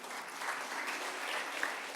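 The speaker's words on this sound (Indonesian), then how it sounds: "Berikan tepuk tangan buat Tuhan." A church congregation claps during a worship service, a dense, soft wash of many hands blending into a continuous hiss at a distance, brief and even with a couple of sharper claps near the end.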